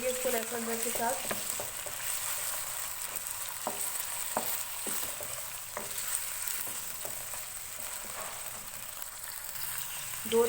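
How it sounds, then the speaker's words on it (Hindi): Chicken frying in oil with garlic-ginger paste on high flame gives off a loud steady sizzle, with a few stirring scrapes and clatters spread through it and no one talking. "दो 3 मिनट के लिए इसको लहसुन अदरक के साथ हाई फ्लेम पे इसको भूनूंगी मैं।"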